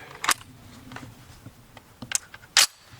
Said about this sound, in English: I also noticed how much easier that magazine goes in when the bolt's locked to the rear.